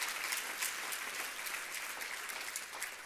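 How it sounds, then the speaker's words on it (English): Audience at a Pennsylvania disability services conference applauding, a steady dense wash of many hands clapping at moderate distance, continuous and fairly soft throughout. "I hope as you were applauding yourselves."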